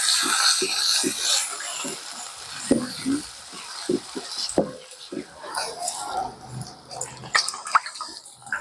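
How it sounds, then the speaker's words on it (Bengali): Sliced onions with whole green chillies frying in hot oil for an eggplant dish, stirred until light brown: a steady close sizzling hiss broken by irregular spoon scrapes and clicks against the pan. "নাড়াচাড়া করে পেঁয়াজটা আমি ভেজে নেবো"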